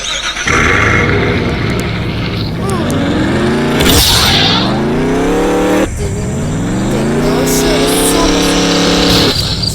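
A car in the Mad City video game spawns and drives off, its synthetic engine whining upward in repeated rising sweeps like gear shifts, loud and continuous, with brief bursts of game effects between revs.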